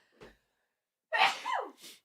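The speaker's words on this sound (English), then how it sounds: "I'm going to sneeze." A quick inhale, a pause, then a single loud sneeze up close followed by a short breathy exhale.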